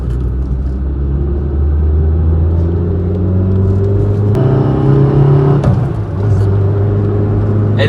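Peugeot 306 car engine running and revving, a loud, close, steady low rumble that rises in pitch as the throttle is pressed, with no talking over it.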